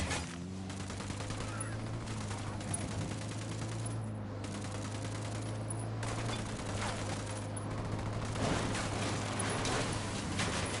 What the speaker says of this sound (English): Opening fire. Open fire.